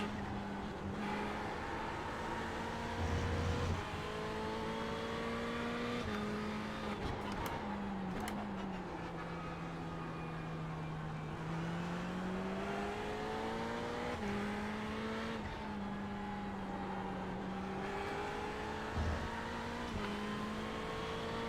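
Race car engine on a practice lap around Spa in the iRacing sim, a steady loud in-car drone with harmonic pitch rising through gears, dipping under braking and climbing again through the run, with a brief sharper burst near the middle.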